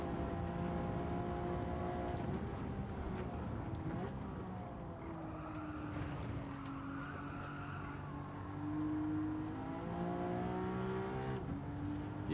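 A car engine climbs and falls in pitch as it gains speed during a time trial run, heard from inside the car with steady mechanical drone and shifting revs, a voice briefly over it.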